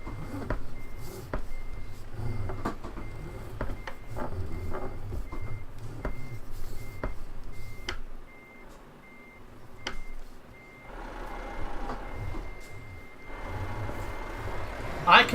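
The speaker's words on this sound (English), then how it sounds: "I can hear somebody driving the toilet truck" A toilet truck engine in the video game Euro Truck Simulator 2 rumbles nearby with a repeating reversing beep pattern, interrupted by clicks and a brief lull before the engine noise builds again.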